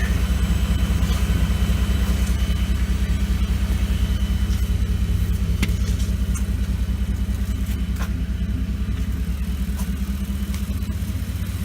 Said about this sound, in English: Engine is really smooth, idling nice and low.